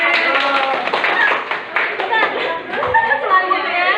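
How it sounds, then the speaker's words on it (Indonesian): Classroom students clapping for a classmate during a teaching practice lesson, a short burst of scattered hand claps mixed with chatter and light laughter from the children. "silakan tepuk tangan untuk teman saya"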